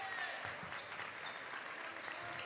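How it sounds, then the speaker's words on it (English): Students in a gym crowd clap steadily during a girls' high school basketball game, a dense, continuous patter of many hands at moderate distance with faint crowd murmur underneath. "The Yellow Jacket students as well getting into the clapping and supporting the defense as Theo picks up the block and out of bounds"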